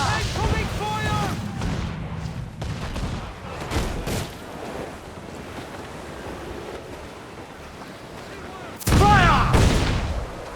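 Naval battle in Assassin's Creed IV Black Flag, with booming cannon volleys, splashing sea and shouting crew voices, loud blasts at the start and a heavy burst near the end over rushing water.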